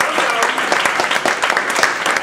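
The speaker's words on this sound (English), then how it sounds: "Can we please give our dignitaries a round of applause?" A contest audience claps for the dignitaries in dense, lively applause that stays fairly loud throughout, with individual hand claps standing out in the mix.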